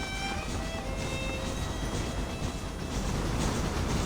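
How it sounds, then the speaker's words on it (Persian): Train passing in the Red Dead Redemption video game, a faint, continuous rumble and rolling clatter of rail cars with a few thin high whistling tones at the start, no talk. "قطارم داریم"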